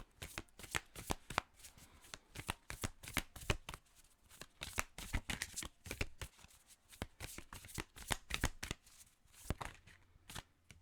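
Tarot cards for a four-card reading being shuffled steadily, with dense rapid riffling and flicking that runs continuously and sits close, with no voices.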